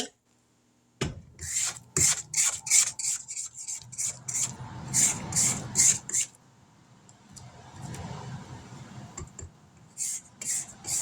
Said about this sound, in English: let's kind of scrape down the sides of the bowl.